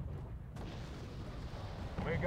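Heavy bombing and artillery explosions in a war video game roll together into a continuous low, booming rumble, with a brief louder burst near the end and faint voices underneath.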